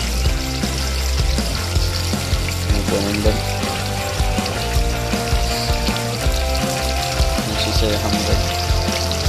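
A motor-driven pump circulates water in a koi pond, giving a steady trickling, pouring flow with a low mechanical hum underneath, while someone talks over it throughout.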